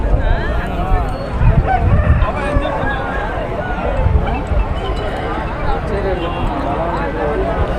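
Roosters crow at a busy country chicken market in Nallapadu, Guntur district, their calls rising over dense crowd chatter and nearby talking voices.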